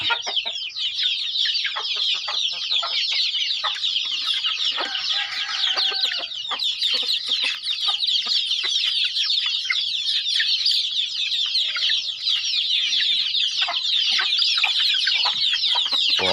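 Chickens clucking and chattering in a garden where chili peppers grow, a busy flock of overlapping clucks and squawks kept up steadily throughout at close range, with no talking.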